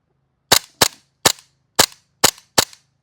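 Novritsch SSQ4 airsoft pistol firing BBs, six sharp, loud snapping shots in an uneven rhythm over about two seconds, with a faint low hum between them and no talking.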